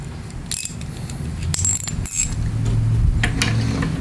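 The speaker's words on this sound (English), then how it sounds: "quarter inch drive because you don't want to over tighten it" A small quarter-inch drive ratchet tightens the carburetor bowl on a Craftsman lawnmower's Briggs 190cc engine, giving several short, close metallic clicks and clinks in bursts over a low background hum.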